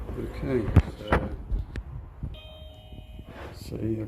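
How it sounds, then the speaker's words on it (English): A Kkmon video doorbell chimes with a sustained electronic tone of steady lines, set between bursts of nearby talk before and after. "I've got somebody ringing on the bell now"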